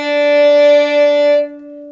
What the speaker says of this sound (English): So now that is a beautiful in-tune note.